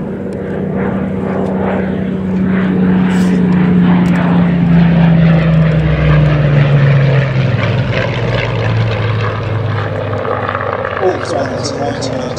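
A Spitfire, a Second World War fighter with a propeller engine, flies at the Duxford air show. Its loud, steady engine roar sweeps past with a falling pitch while someone talks over it.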